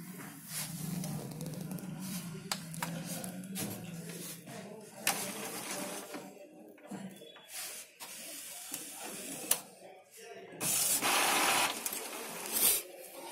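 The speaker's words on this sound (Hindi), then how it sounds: "तैयार हो रहा है प्रिंटर।" An Epson L-series inkjet printer powers on and initializes, giving faint mechanical whirring, scattered clicks and carriage movements, then a louder hissing, rushing burst near the end.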